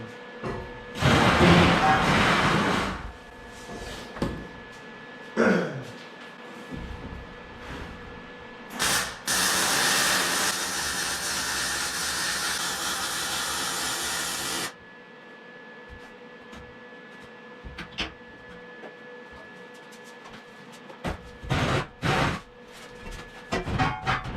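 Metal being welded on a ski and snowboard rail: long steady hissing, crackling bursts, one stretching about six seconds, broken by quieter gaps with short pops, close and moderately loud, with occasional talk.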